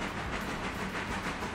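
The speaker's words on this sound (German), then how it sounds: "Ich ziehe nur gerade die Waggons vom Volker da raus." Rolling rumble and hiss of train wagons being pulled along track in the Railroader game, a steady mid-loud rail noise with faint clatter, brief and without voices.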